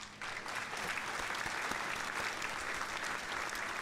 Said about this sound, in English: So I'll give you a round of applause.